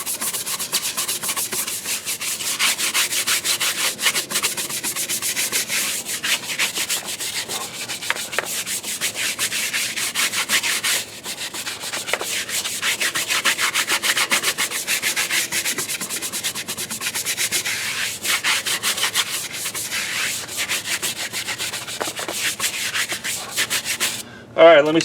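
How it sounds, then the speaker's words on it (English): A brush scrubs a tire with Bad Ass Cleaner, making continuous rapid scratchy rubbing strokes close up, steady for about twenty-five seconds before stopping abruptly. "so I'm agitating that tire"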